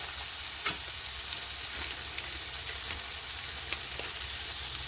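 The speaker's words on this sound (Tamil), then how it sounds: "எங்களுக்கு கத்திரிக்காயும் சேர்ந்து வதங்கி கொண்டு வந்துட்டு" Eggplant sautéing in a pan, a steady broadband sizzle with occasional soft pops and faint clicks, close and continuous with no voices.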